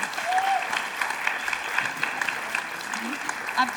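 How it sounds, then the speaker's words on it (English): An audience applauds panel speakers after an in-conversation event, a soft, fairly distant patter of clapping that holds evenly for a few seconds, with faint voices mixed in. "Please, another round of applause for Nicole Dyer, Holly Ringland, Morag Myerscough and Siân Hromek"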